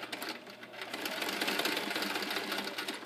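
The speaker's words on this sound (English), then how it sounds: "Then lower our foot and start sewing." A sewing machine stitches a shoestring onto a bass bow quiver, making a steady, close, continuous mechanical whir with a fast rapid rhythm and no talking.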